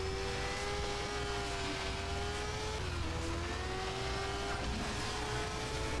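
A motorcycle races in the arcade game Moto Racer 4 with a loud, steady high engine whine and sliding pitch as it accelerates, alongside other traffic, with no talking.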